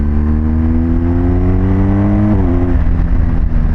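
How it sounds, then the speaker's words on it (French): A BMW GS Adventure motorcycle engine revs up steadily in a loud, close drone, then a quick shift drops the pitch before it climbs on again. "Ce truc de t'accélères, t'as le bruit de la moto, t'as le shifter."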